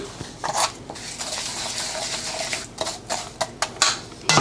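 Brown sugar, cinnamon and melted butter being stirred together in a bowl, giving a run of scraping and clinking spoon-against-bowl strokes, close and moderately loud, with sharper knocks toward the end.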